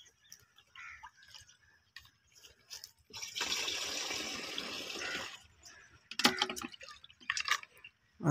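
Liquid pesticide pours into a wheat-field sprayer tank in a rush of splashing lasting about two seconds, followed by a few short clinks and knocks nearby, with no talking.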